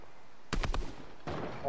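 Sniper gunfire in the video game Fortnite: a sudden burst of sharp, rapid cracks after a moment of quiet, followed by a second, longer blast.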